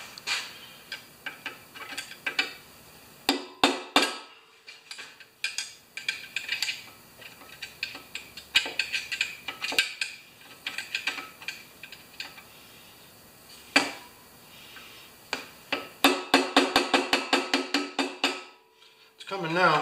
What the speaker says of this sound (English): I don't like using the screwdriver for a chisel, but I'm gonna.